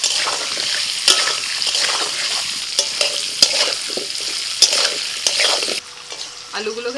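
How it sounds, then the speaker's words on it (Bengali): Potatoes frying in hot mustard-fish oil with salt and turmeric give a steady, loud sizzle with stirring clatter and scrapes throughout, easing off to a quieter crackle near the end. "আলুগুলোকে তেলের মধ্যে ভেজে নিয়েছি"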